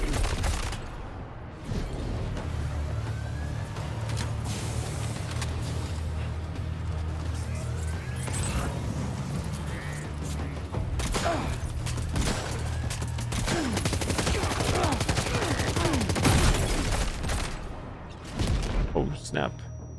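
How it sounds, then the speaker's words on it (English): Heavy gunfire fills the scene, dense, continuous bursts of shots mixed with louder booms and crashes, while voices speak over the din. "who's shooting?"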